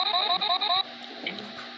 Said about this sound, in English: That's basically how you make your own talking sound effect.